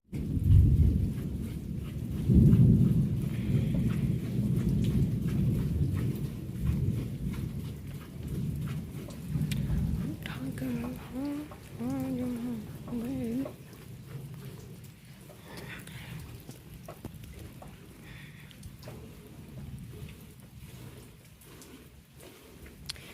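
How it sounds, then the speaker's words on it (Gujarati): Steady heavy rain roars throughout with low rumbles of thunder rolling underneath, loud and close, with no voices. "કેવો વરસાદ છે ને મોટા છાંટે જેમ થાય એમ વધતો જ જાય છે"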